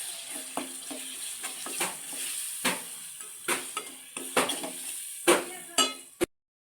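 Ginger garlic paste is stirred into a fish curry in a pan, with scraping spoon strokes and clinks over a low sizzle and a final sharp knock against the pan.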